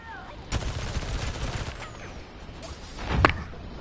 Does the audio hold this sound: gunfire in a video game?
yes